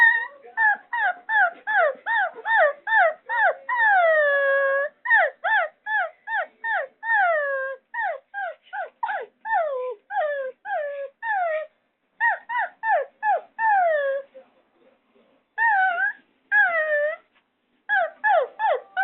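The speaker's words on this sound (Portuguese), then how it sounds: "Olha o cachorro fugindo, Pumba." A dog whimpers and yelps in a long, rapid series of high, falling cries, close and fairly loud, with brief pauses and no talk.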